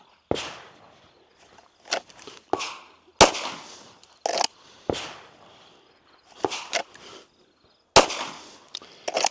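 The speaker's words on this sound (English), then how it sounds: "we're just going to do this standard 5-shot warm-up." Five sharp gunshots at a shooting range, fired singly with pauses of a second or more between them, loud and close, with softer handling clatter in the gaps.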